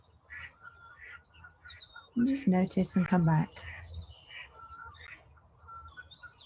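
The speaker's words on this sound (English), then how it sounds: "maybe the sounds of the ducks and the birds are distracting" Ducks and other birds call outdoors, with light chirps scattered throughout and a brief burst of loud quacking in the middle, while a calm voice speaks softly over them.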